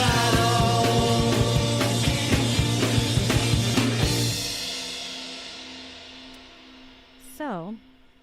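A rock recording plays at full band volume with steady drums and guitars, then ends and rings out into a fading decay, followed by a short descending electronic sweep.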